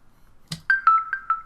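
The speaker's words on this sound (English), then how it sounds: "That was my phone." A phone notification goes off nearby: a short knock followed by four quick, bright electronic tones in a descending-and-rising pattern, clear and alone.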